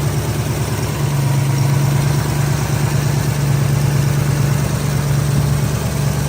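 A 1971 Ford Mustang coupe with a 302 V8, headers and an automatic gearbox, idling steadily and loudly up close, a deep, even rumble with a slight pulsing throb and no voices.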